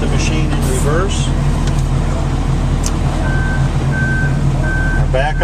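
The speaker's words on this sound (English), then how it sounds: "Our backup alarm is sounding, so that works." Intermittent backup alarm of a Volvo wheel loader in reverse, steady repeated beeps over a loud idling diesel engine rumble outdoors, with brief talk nearby.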